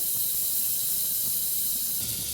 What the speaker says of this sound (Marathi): त्यासाठी आम्ही सर्वप्रथम कुकर गॅसवरती ठेवला आहे गरम करायला। त्यामध्ये आम्ही बटर टाकले आहे